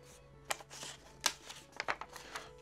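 Playing cards rustle and snap as one card is drawn from the deck and flipped over, a few quick papery flicks close to the mic with no talking.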